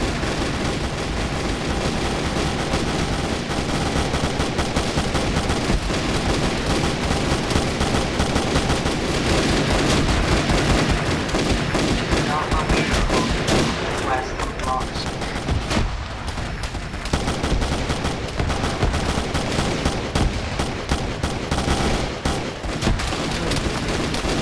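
Command and Conquer battle with continuous, loud gunfire: rapid machine-gun bursts and steady shooting run throughout, with booming impacts and occasional voices under the barrage.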